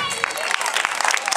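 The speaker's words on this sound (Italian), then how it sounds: "facciamole un applauso" An audience at a music school's end-of-course recital claps in a quick patter of applause, with voices talking over it.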